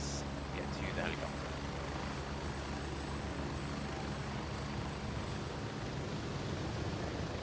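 Helicopter in the shooter video game Gray Zone Warfare, a steady, loud rotor and engine roar that holds at an even level throughout.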